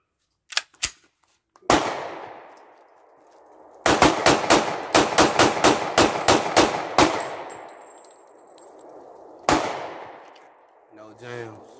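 Glock 30 pistol in .45 firing a full magazine at an outdoor range: a few initial shots, then a rapid string of about a dozen loud, sharp reports, followed after a pause by one final shot and a brief voice.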